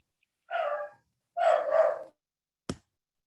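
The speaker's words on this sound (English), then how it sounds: "Somebody has a dog, I hear." A dog barks twice at home during an online meeting, each bark short and fairly close, followed by a brief sharp knock or click.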